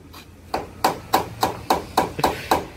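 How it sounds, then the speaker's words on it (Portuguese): A hammer taps out a steady rhythm of sharp, evenly spaced knocks, about eight in a row, during paintless dent repair on a 1985 Chevrolet Opala, close and loud with no talking. "Vamos ver como é que é o serviço de martelinho."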